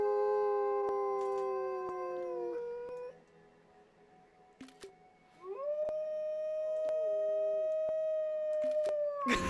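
An animal in the zoo-building video game Planet Zoo lets out long, drawn-out tonal howls that bend and waver in pitch, clear and fairly close, with a short lull in the middle before the howling swells again.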